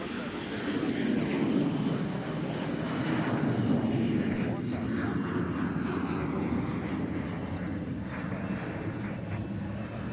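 A CRJ regional jet passes at Nashville International Airport, its engines a broad, steady roar that swells and slowly eases, with people talking over it.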